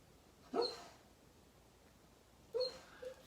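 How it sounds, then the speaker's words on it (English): A sleeping puppy dreaming, giving two short, soft whimpering yips about two seconds apart, fairly close but faint over a quiet room. "my puppy here is asleep and having a dream"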